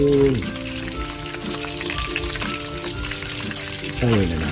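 Chicken frying in a pan of oil gives a steady, close sizzle and crackle throughout, running under a voice and background tones.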